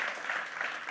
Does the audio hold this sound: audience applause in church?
yes